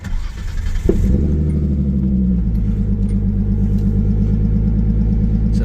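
A Nissan S13 Silvia coupe's RB25DET engine with a Tomei Expreme Ti exhaust cranks and fires up, then settles into a loud, steady, rumbling idle with a rapid throbbing pulse.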